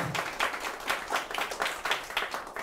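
A church congregation claps together in praise during a worship service. The claps are rhythmic and fairly loud, with a steady beat of about two per second.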